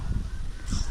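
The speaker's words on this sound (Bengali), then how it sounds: "প্রচুর পাখির শব্দ শোনা যাচ্ছে পাখি ডাকতেছে" Brief bird calls sound out over a low, rumbling outdoor background, short and fairly distant.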